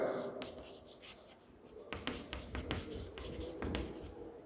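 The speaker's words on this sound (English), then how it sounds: "let me just write it down here." A pen writing notes for a statics lesson on equilibrium of a particle: a run of soft scratching strokes with short taps and pauses, close and quiet, alone without talk.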